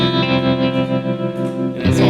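An electric guitar runs through a tremolo effect on a Fractal Audio FM9 pedalboard. A sustained, effected tone pulses rhythmically in volume, with a fresh pick attack near the end.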